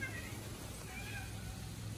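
A house cat meows softly in a quiet indoor room on a rainy day, a faint, thin cry sitting low under steady background hiss.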